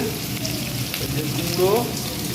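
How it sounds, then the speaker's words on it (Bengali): Pui mituli frying in a pan sizzles steadily and close, with a continuous hiss and occasional soft stirring scrapes, no talk. "মিটুলি রান্না হচ্ছে"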